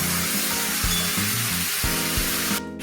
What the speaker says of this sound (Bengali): আলু বেগুন ভাজা হয়ে গেছে নামিয়ে নিচ্ছি